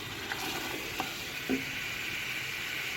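Already-tender beef being fried in a pot for beef yakhni pulao gives off a faint, steady sizzle, broken by a few soft clicks of stirring.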